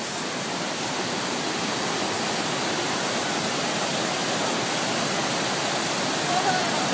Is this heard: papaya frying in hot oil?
no